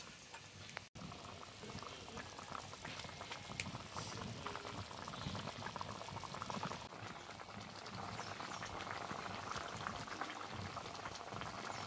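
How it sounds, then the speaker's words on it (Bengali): Mustard pabda fish curry with fried eggs bubbling in a pot: a low, steady stream of soft boiling gurgles and pops that runs on evenly throughout, quiet and close. "এবার ডিম দিয়ে আরও বেশ খানিকক্ষণ ফুটিয়ে নিই।"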